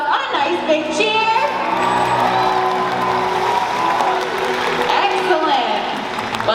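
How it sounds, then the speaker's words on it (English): A large crowd at an orca show applauds and cheers loudly and continuously, with whoops rising over dense clapping and a presenter's voice partly audible. "we're going to give him a round of applause on a nice big cheer"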